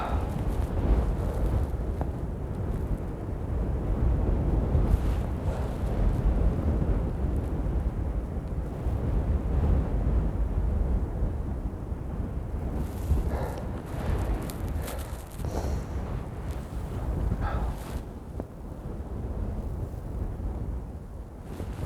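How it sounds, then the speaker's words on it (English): Strong wind buffeting the microphone on a golf course, a continuous loud low rumble with gusty surges and no clear talk. "the wind's starting to really pick up now"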